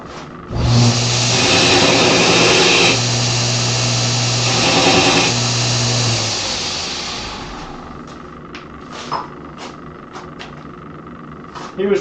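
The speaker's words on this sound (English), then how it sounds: "just put a tack weld onto the bar" Electric welding of a tack onto a steel bar before forge welding a bell: a loud, steady buzzing hum of about six seconds with a brief dip midway, then fading into quieter shop noise and scattered clicks.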